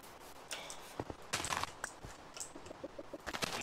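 Chicken clucking in the Minecraft video game, with several short clucks scattered through the stretch amid game noise, moderately loud and close, with no talk over it.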